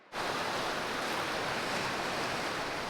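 Ocean surf on a Pacific Northwest beach near Mora Campground, a continuous broad wash of breaking waves that swells in after a moment of quiet and stays loud and even, with no voices.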